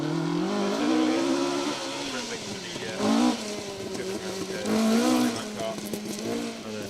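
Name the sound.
Ford Escort Mk1 rally car engine, Stokes rally team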